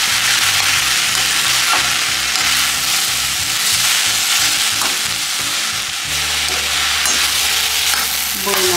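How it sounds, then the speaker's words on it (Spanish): Huitlacoche mixture stirred in a hot pan, a loud, dense frying hiss with rhythmic scraping strokes throughout and a low background hum, no one speaking. "Movemos esta preparación para que se integre."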